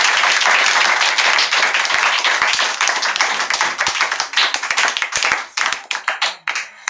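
A church congregation at a Sunday gathering breaks into loud, dense applause acclaiming the Lord, the clapping thinning into scattered individual claps toward the end.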